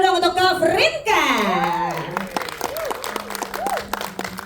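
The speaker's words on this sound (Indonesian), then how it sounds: "Tepuk tangannya dulu dong untuk Kak Frinka" An audience at a gala premiere and press screening of a horror film applauds a special guest. Steady clapping runs underneath a loud, melodic voice at the microphone.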